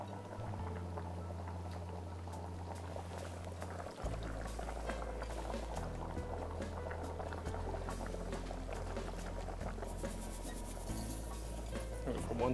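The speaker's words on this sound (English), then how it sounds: "we'll add our white vinegar" White vinegar poured into a mixing bowl, a continuous bubbling liquid trickle that shifts in pitch about a third of the way through as the stream changes, steady and close.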